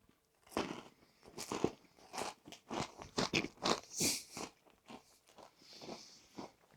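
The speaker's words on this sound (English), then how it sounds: "Can you hear that crunch?" Close, crisp crunching from someone chewing food, a series of irregular bites and chews, fairly quiet but clear, with no talking.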